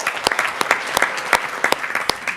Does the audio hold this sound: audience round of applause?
yes